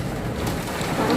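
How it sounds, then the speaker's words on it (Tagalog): Steady, dense summer rain in Saudi Arabia hisses continuously, with a broad rushing wash that suggests wind mixed in; no voices. "Lakas ng ulan. Tapos mahangin."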